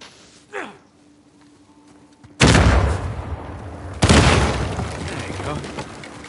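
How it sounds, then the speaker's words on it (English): Two loud, sudden explosions sound in the video game Uncharted 4, each followed by a long rumbling decay, after a quieter stretch with a brief softer thump. "hopefully we just blend in with the other explosions"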